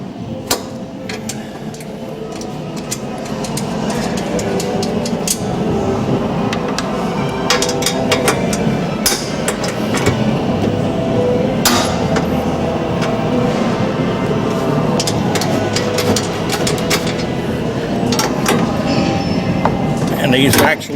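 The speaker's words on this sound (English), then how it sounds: "now we're going to go ahead and take these 4 nuts off" Metal nuts being loosened and removed from the seat adjuster of a Dirty Drivin' arcade cabinet, with sharp ratcheting clicks and metallic knocks scattered over a steady mechanical rumble and background noise.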